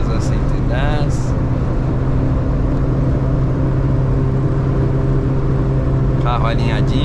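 A 1997 Chevrolet Corsa Wind cruises at about 4000 rpm and 110 km/h, its engine drone and road rumble steady and loud throughout, with someone talking over it near the start and again at the end.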